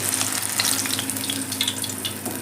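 Mint vadas deep-frying in hot oil give off a steady, dense sizzle with fine crackling bubbles throughout, close and continuous with no voices.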